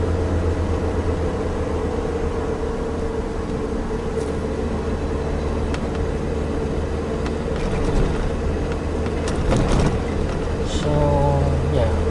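Steady engine drone of a Suzuki Jimny 1.3 cruising in third gear around 2,500 RPM at about 50, a low constant hum with road noise and occasional faint rattles.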